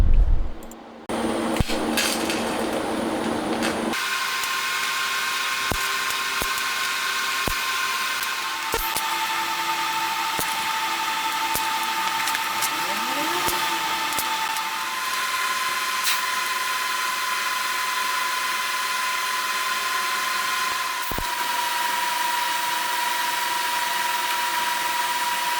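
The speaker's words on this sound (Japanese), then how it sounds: "残りのフレームもどんどん溶接していきます。" Welding of steel frame pieces being joined into a box-shaped stand with gas-shielded welding. A steady buzzing crackle runs continuously and close, with a few sharp clicks and brief breaks, and no talk.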